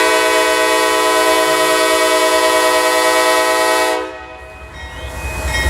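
Norfolk Southern freight train NS51D sounds a long, loud, steady horn blast at close range, which cuts off sharply and leaves the rumble of the moving train.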